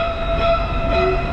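A Universal Studios backlot tour tram rolls along with a steady, continuous mechanical rumble and faint sustained tonal whine, close and even throughout with no voices.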